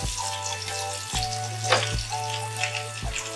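Onion and tomato frying in a pan for a fish curry, giving a continuous close sizzle with a low steady hum underneath and a few soft clicks and stirring scrapes, with no voices.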